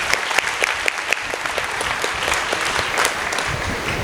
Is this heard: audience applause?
yes